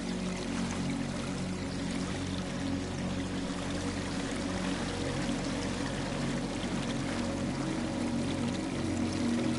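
Steady water pours and streams without pause in a locked room of the video game Aer: Memories of Old, a constant moderate rush with a low rumbling undertone and no voices.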